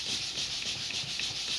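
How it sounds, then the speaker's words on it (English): A sanding block works over a fin on an Estes Doorknob model rocket in big circular strokes, giving a steady close-up rasping rub that swells and eases rhythmically without pause. "So I've got my sanding block. I'm sanding in nice big circles"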